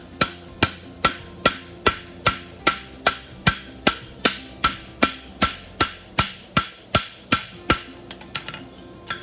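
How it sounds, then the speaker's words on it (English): A hammer strikes a horseshoe on an anvil while forging the heel caulk of a double dobber shoe, about twenty sharp ringing blows in an even, steady rhythm, close and loud, the last few lighter. "I'm going to pull the shoe this way while I'm flattening the front of it."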